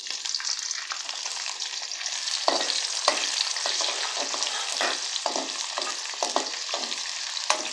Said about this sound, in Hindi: अब मैं इसमें ऐड करूंगी 2 अदद प्याज।